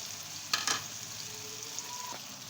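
Three beaten eggs for an omelette fry in a pan with a steady, close hiss, and a short pair of scraping clinks breaks in early.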